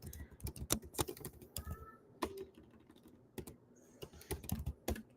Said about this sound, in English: I'm just typing her name right now in the chat.